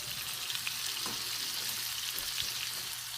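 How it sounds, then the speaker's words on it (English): Mushrooms fry in a pan with a steady, dense sizzle and crackle, and occasional faint stirring clicks. No one speaks over it. "Just keep cooking your shrooms, man."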